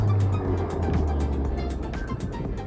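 A Ford Focus RS MK2 with 150,000 miles drives steadily after an alignment, its engine a loud, continuous low rumble heard from inside the car.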